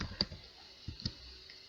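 Scattered keystrokes on a computer keyboard while typing JavaScript code, several light, close clicks spaced irregularly with quiet gaps between them.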